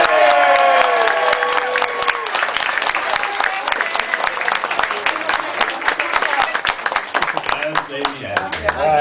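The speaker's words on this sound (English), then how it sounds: "let's give them another round of applause." A theatre audience at a charity stage show claps and cheers loudly and steadily for several seconds, with scattered whoops, as a crowd voice rises over the dense applause before it thins toward the end.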